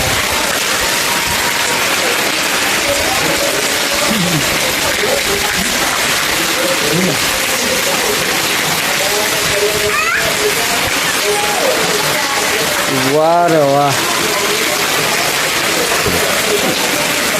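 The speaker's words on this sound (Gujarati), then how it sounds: "તો કાલે સવારનો વરસાદ ચાલુ છે" Heavy rain pours continuously over a city during a five-hour downpour that floods the streets, a dense steady roar throughout, with people talking and a cat meowing over it.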